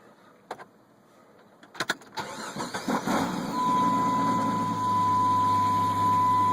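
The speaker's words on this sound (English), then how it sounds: "I'm starting the Jeep" A 1997 Jeep engine cranks with a few quick stuttering turns, then catches and settles into a steady, loud idle with a thin whine above it.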